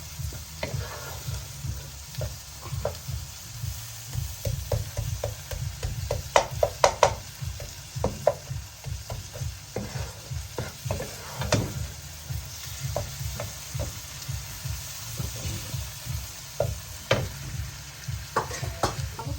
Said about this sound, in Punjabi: ਹੁਣ ਹਲਕਾ ਜਿਹਾ ਇਹਨੂੰ ਭੁੰਨਾਂਗੇ